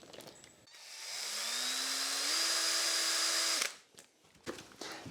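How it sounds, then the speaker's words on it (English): A Bosch power drill spins a drill bit in one steady, loud whine lasting about two and a half seconds, its pitch rising slightly as it speeds up, then cutting off abruptly, with faint handling noise before and after. "Watch the drill bit spin on the Bosch to start with."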